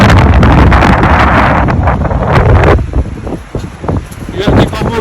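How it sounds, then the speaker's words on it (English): Strong winter wind roars across a mountain trail near a saddle during a storm, a loud, constant buffeting rush over the microphone that eases slightly toward the end, with a voice talking underneath. "Because it's totally windy, super windy out there."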